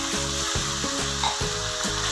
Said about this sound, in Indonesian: Kita tumis sampai bumbunya meresap dan matang.